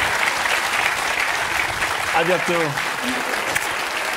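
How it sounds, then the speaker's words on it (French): Studio audience of a television quiz show applauding steadily throughout, a dense sustained clapping wash with a voice briefly speaking over it near the end. "Hein, et le public vous applaudit"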